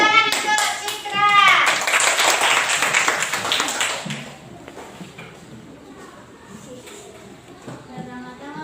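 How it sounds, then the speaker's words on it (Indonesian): Schoolchildren in a classroom clap for a student, a rhythmic burst of hand claps that swells for a few seconds and then fades, followed by children's voices and light tapping. "Tepuk tangan untuk Citra"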